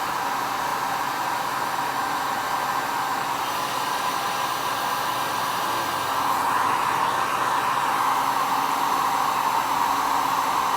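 Heat gun blowing hot air steadily to shrink plastic finger parts, a continuous close roaring hiss that holds even for the whole stretch with no talking.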